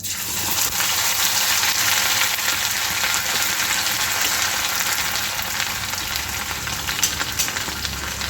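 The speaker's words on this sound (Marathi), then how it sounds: "यात मी जिरं घालून घेते आपलं जिरं फुललं की त्यानंतर आपण मिरची लसूण याची पेस्ट घालायची आहे" Cumin seeds and chili-garlic paste frying in hot oil, heard as a loud, steady, close sizzle that stays even for the whole stretch, with no talking.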